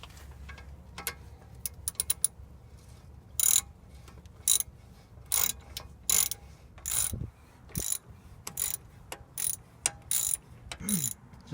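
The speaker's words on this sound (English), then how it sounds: "to remove the caliper, you're going to need a 17mm socket to take the two bolts off here in the back" A ratchet with a 17mm socket works the two rear brake caliper bolts on a Chevy Trailblazer or GMC Envoy, giving repeated bursts of sharp clicking in short runs, close and crisp amid quiet shop ambience.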